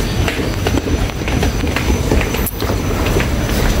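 An MRT train at the Taipei Main Station platform rumbles steadily and loudly, with rolling wheel and rail noise filling the station and a brief sharp squeal partway through.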